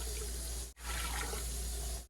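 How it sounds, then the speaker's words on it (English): Water pours steadily from a tap into a canner holding jars for strawberry pie filling, a loud, close, continuous rushing stream that briefly cuts off twice. "I need to add water till it's about 1/2 inch to 1 inch above the jars"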